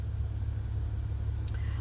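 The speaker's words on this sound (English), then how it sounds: "I'm in traffic going to go get the kids" Road traffic heard from inside a car as a steady, heavy low rumble of engine and tires, continuous throughout, with one faint click partway through.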